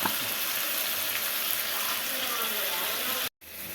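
Prawns fry in hot oil for a prawn curry: a dense, steady sizzling hiss, close and constant, which cuts off abruptly near the end before a softer sizzle returns.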